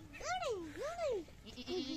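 A mother goat that has recently given birth bleats twice up close, two long wavering calls, followed by a softer short bleat.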